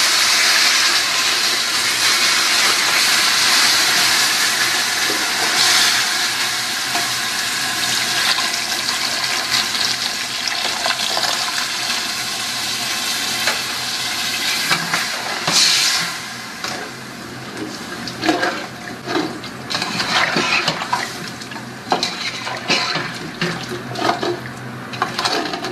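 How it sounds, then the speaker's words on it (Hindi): Water pours and gushes steadily into a cooking pot over a high flame for Tahari potato rice, a loud continuous rush that gradually breaks into bubbling, spattering bursts. "फ्लेम हाई रखना, और इसमें ये पानी ऐड कर देते हैं।"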